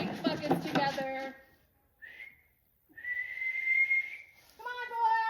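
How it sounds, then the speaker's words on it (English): A person whistles to call horses in for feeding, with a few sustained clear whistled notes after a burst of nearby speech. "With the horses coming up, I like to whistle"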